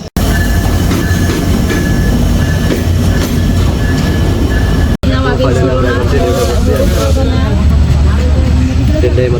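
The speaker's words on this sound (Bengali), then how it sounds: "আই থিঙ্ক ট্রেন এসে পড়ছে, সাউন্ড শোনা গেতেছে।" A train arriving at a station in Bangladesh on a Tangail–Chattogram journey, its loud, steady rumble and rattling wagons filling the scene with a brief squeal, close by, while voices talk over it.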